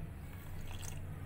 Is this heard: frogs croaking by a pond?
no